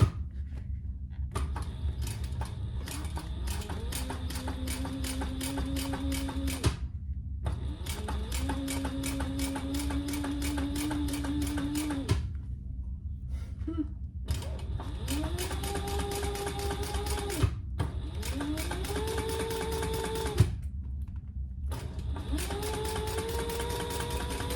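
A sewing machine top stitches TPU vinyl for a cosmetic pouch in repeated runs of a few seconds each, with short pauses between them and a faint rising-and-falling tone over the motor hum.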